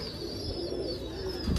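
Pigeons cooing steadily at close range, with soft repeated low calls over a constant background hum.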